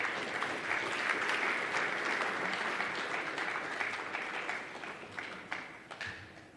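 A conference audience applauds in a broad, sustained wash of clapping that fades slightly toward the end, heard from a little distance, with no talk.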